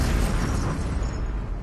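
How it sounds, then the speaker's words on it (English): A remotely controlled bomb detonates outside a biker headquarters in Quebec, a dense rumbling blast that fills the low end and holds loud before slowly fading. "Hell's Angel Scott Steinert detonates a remotely controlled bomb."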